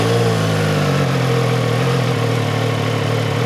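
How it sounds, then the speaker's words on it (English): A CFMOTO 675SR-R triple-cylinder sport motorcycle on a racetrack gives off a constant, loud exhaust note, a buzzy, even engine drone held steady for several seconds without speech. "Let's listen to that triple exhaust note, and it does sound really good"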